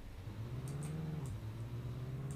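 A BMW 2.0 engine in the Car Parking driving game, a faint, steady engine drone with slight rises and falls in pitch and a few light clicks above it.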